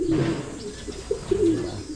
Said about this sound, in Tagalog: Ito ang ating mga ibon.